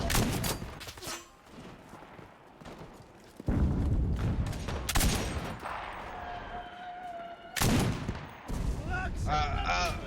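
Rifle gunfire from the M1 Garand in the Enlisted video game, loud bursts of shots mixed with distant battlefield explosions and sustained combat noise.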